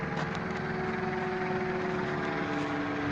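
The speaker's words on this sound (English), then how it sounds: "The helicopter, by the way." Helicopter flying overhead, a steady droning engine and rotor rumble with a constant hum, moderately loud and unbroken, with no speech.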